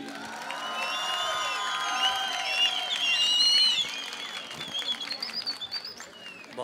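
Audience applause at a literature festival in Quetta, with scattered cheers and whoops over steady clapping that swells and then tapers into thinner, uneven claps.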